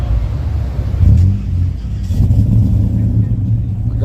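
A Fox body Ford Mustang at a drag race rumbles and revs loudly nearby, its deep engine note surging in short bursts while people talk over it.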